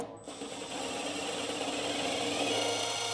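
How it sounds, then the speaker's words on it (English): A power driver hums and whirs continuously, threading self-tapping screws into a travel trailer's steel frame. It is a close, steady mechanical drone with a constant tone and no talking. "I'm going to go ahead and use our self-tappers that come with the unit, and I'm going to go ahead and thread these"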